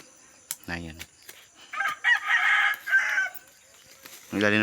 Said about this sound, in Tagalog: Ang ilalim ng bahay may mga manok.